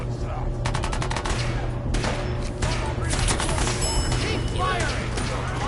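Fallout 4 gunfire bursts in rapid automatic volleys, dense and loud, over a steady low hum and game noise. Short pauses split the bursts, and a voice briefly cuts in.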